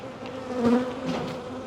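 Honey bees swarming around a hive give a dense, close, continuous buzzing drone that swells slightly midway, with no voices.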